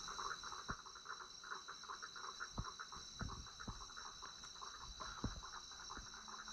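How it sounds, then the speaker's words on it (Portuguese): Frogs croak at night near a campsite in rural Brazil, a dense chorus of rapid, pulsing calls over a steady high insect drone, faint and distant, with occasional soft thumps and no talking. "Ó o barulho dos sapos,"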